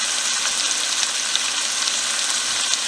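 Peppers and onions frying in a hot pan while cooking steamed snapper, a dense, steady hiss and crackle of sizzling oil, close and loud throughout, with no voice over it.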